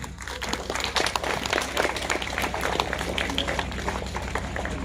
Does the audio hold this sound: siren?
no